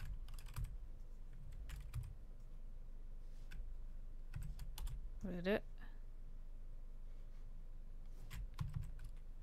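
Computer keyboard typing during a game livestream, quiet scattered clusters of key clicks with pauses between them, heard under occasional soft talk from a streamer.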